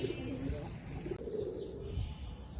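A sick pigeon with twisted-neck disease coos low and soft in a couple of brief murmurs, close by, over a steady background hum.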